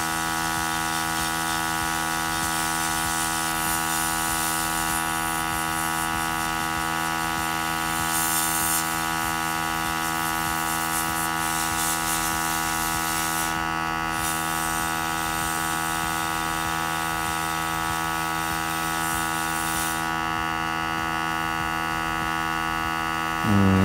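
A steady, unbroken electric hum and drone from an airbrush running while a miniature is painted, lasting the whole stretch at an even, fairly close level with no talk.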